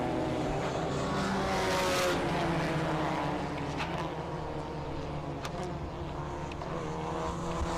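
Polo Cup India race cars at a circuit, a pack of cars running close together: a steady, distant engine roar that swells and fades as they pass, continuous with no talk.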